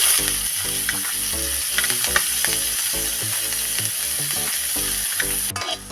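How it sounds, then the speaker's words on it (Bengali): Shredded cabbage sizzles and crackles loudly in hot oil in a wok while being stirred, a steady close frying hiss with rhythmic scraping and tossing throughout. "এবার ভেজে নেব বাঁধাকপি।"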